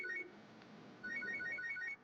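A mobile phone ringtone plays two bursts of rapid, bright electronic trills separated by a short pause, close and fairly quiet with no talk.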